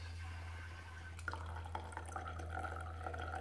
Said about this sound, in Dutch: En nu kan je gaan schenken.